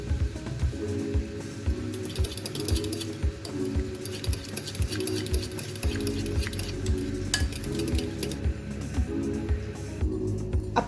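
A spoon steadily stirs roasted cumin crushed between the palms into raita in a bowl, giving soft repeated clinks and scrapes against the dish, close and continuous.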